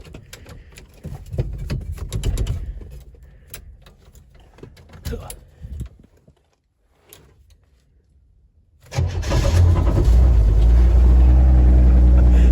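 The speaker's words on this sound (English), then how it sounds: "Damn, I love that 6-cylinder." A 1971 Chevrolet Nova six-cylinder engine fires up after a quiet pause and settles into a loud, steady, close idle rumble, with talk and knocking sounds before the start.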